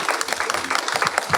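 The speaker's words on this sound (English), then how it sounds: "Not only a round of applause." A brief round of applause from a panel talk audience, dense clapping that stays steady and close for just over a second.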